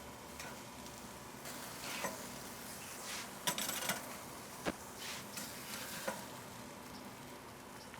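A burger sizzles on a grill, a faint, continuous crackle broken by a few sharp clicks and spatula scrapes.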